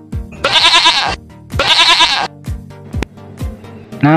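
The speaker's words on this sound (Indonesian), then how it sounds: "Ada kambing" A goat bleats twice in long, wavering calls, followed by a few shorter, fainter bleats and soft rustling, with no voices.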